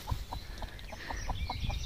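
Chickens cluck in a farm yard, a repeated run of short, fairly close calls at a steady rhythm over a low background rumble.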